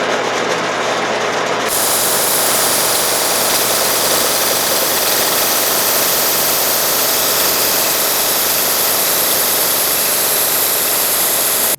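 A slitting saw cuts a groove into a handguard for a Dragonslayer sword replica, giving a loud, steady, continuous machine whir and grind that runs without a break from start to finish.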